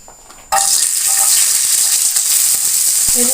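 Garlic, then onion, drops into hot oil for a garlic-onion pickle and bursts into a loud, steady sizzle and crackle right after a quiet start, close and continuous with no talking over it.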